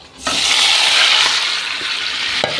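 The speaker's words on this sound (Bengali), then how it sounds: "এবার আমি মাংসটা দিয়ে দেব" Chicken pieces hit hot oil spiced with garam masala, setting off a loud, steady sizzle that bursts in abruptly and holds close and bright, with a faint utensil clink near the end.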